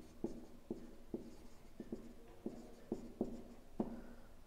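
Pen or marker writing out a line of a Class 10 maths proof, a quick series of sharp scratchy strokes and taps at irregular intervals, close and clear with no talking.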